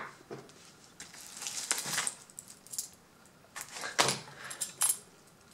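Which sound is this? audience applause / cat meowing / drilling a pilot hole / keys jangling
keys jangling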